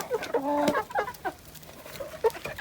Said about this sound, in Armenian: հավերս են այստեղ, արևկող են անում